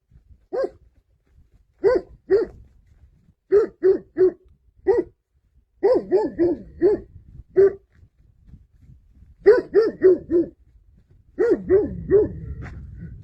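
Dogs bark repeatedly outdoors in short bursts of two to four barks separated by pauses, fairly close and loud, with some low rumbling background noise near the end.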